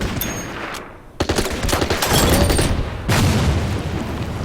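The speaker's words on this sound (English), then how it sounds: "And we can take a shot at his AT gun." Shots fired at an anti-tank gun in the wargame Order of Battle, set in the Winter War at Suomussalmi: loud booming reports and crackling bursts fill the stretch, with a heavy impact near the middle and continuous rumbling fire.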